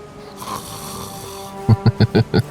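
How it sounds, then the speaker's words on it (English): A character in an open-world fantasy role-playing game snores in five short, evenly spaced rasping bursts, close and loud above a soft ambient hum. "Snoring."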